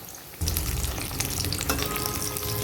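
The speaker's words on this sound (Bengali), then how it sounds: "এই বড়াগুলো ভাজার সময় গ্যাসের ফ্লেমটা কিন্তু বাড়িয়ে রাখবেন" Bottle gourd fritters fry in hot oil over a high gas flame, a steady, close crackling sizzle that swells as frying begins and keeps going with no voices.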